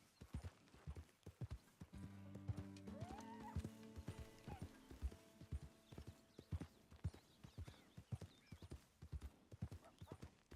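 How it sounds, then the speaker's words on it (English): Horse hooves clip-clop steadily across the ground in Red Dead Redemption, a brisk unbroken rhythm of hoof strikes with a brief whinny early on, fairly quiet overall. "I named my horse Cinnamon."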